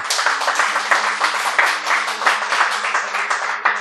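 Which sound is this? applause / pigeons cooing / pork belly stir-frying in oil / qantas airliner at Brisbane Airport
applause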